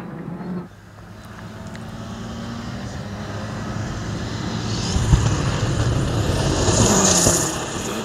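A rally car at speed on a gravel stage in the 2018 Whangarei round of the New Zealand Rally Championship, its engine roar building steadily and growing louder toward the end with a brief sharp knock midway.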